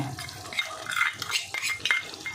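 Ground rice paste being stirred into fish head curry in a pan, close wet squelching and scraping of a spoon against the metal pan in short uneven strokes.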